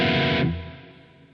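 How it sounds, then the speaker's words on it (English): A distorted electric guitar passes through reverb in a Pro Tools mix: a loud sustained chord cuts off and leaves a smooth reverb tail that fades out gradually. "and we hear the guitar with some reverb."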